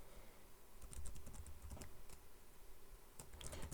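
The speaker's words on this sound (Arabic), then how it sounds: "نكتب الباسورد بتاعنا." Someone types a password on a computer keyboard during a Manjaro Linux installation, a quiet, close run of irregular key clicks with no talk.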